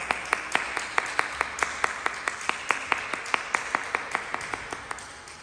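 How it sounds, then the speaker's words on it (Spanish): A small group claps steadily in evenly spaced, sharp claps for Ana María's 85th birthday thanksgiving, the claps fairly close and distinct, keeping a regular rhythm throughout. "le regalamos un fuerte aplauso a Ana María"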